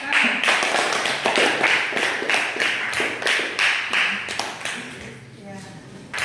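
Classroom of eighth-grade students clapping together after group presentations, a dense, steady patter of many hands close by that thins toward the end, with some voices mixed in.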